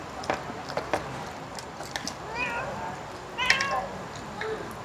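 Several cats meow repeatedly in a home setting, with short rising-and-falling cries scattered through the stretch and a louder pair near the end, mixed with light clatter and faint background noise.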